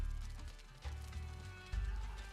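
Horses mill about at a horse seller's pen in a Shem town in the video game Conan Exiles, with soft hoof clops and low rumbling thuds in short bursts, moderately close, and no talk over them.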